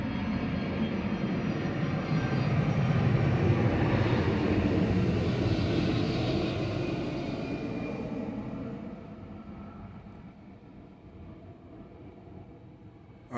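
A passing vehicle, a broad roaring rush that swells to a peak midway and then fades slowly into the distance, heard alone without talk.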